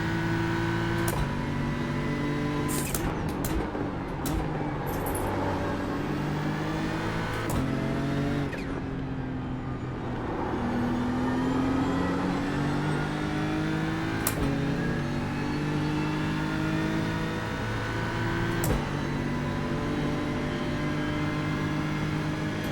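A race car engine in a sim racing game during Nürburgring practice, revving and climbing through gears with sharp shifts and downshifts, loud and continuous over several laps' worth of acceleration.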